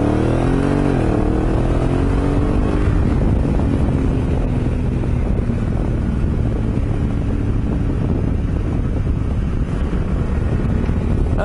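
Honda Africa Twin DCT motorcycle ridden in sport mode with manual shifting, its engine rising in pitch early on then droning steadily under heavy, constant wind rush.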